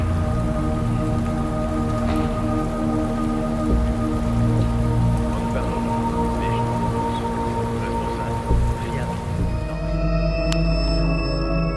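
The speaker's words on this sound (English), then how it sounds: "Usually rain noises make me fall asleep, but they had two effects in this game." Steady rain in the detective video game Shadows of Doubt, a continuous dense patter with low tonal hum and drones beneath, ending in a sustained synthetic tone; no voices.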